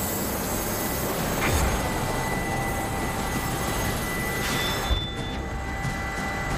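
Coast guard rescue helicopter flying overhead at sea, a loud continuous rotor and engine roar filling the whole clip with a broad steady rumble and no talking.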